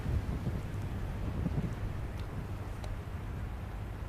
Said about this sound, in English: It's crazy windy right now.